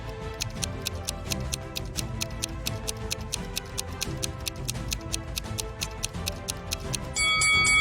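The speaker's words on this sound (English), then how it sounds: "the timer goes on ticking" Steady timer ticking, loud and close, keeps a regular beat over a busy background of music-like tones, with a sharper chime near the end.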